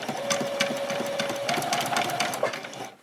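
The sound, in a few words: sewing machine back-stitching a doll's dress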